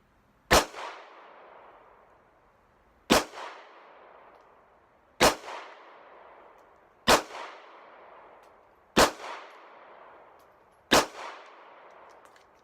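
Six sharp, loud pistol reports from a Smith and Wesson BodyGuard BG380 at a shooting range, evenly spaced about two seconds apart, each cracking out then ringing briefly into a short decay, with no talking.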